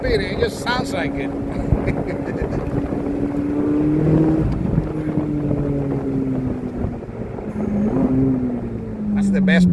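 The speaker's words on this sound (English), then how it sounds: "That's the best part right there, when they downshift." A 2023 Chevrolet Corvette Z06 engine drones under wind noise inside the moving car, its pitch sliding down and rising again as it downshifts through the gears, with people talking over it at times.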